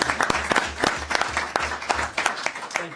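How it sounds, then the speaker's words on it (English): A small group at a committee of the whole meeting gives a round of applause for a long-serving team member, with steady, fairly close hand claps over a low background hum and only a little talk. "I just want to give them a round of applause"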